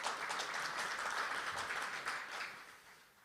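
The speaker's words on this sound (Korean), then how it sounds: "무대 앞으로 모실 텐데 큰 박수로 여러분 맞아주시죠" A conference audience applauds steadily as a lawmaker is welcomed to the stage, the dense clapping holding for several seconds before tapering off at the end.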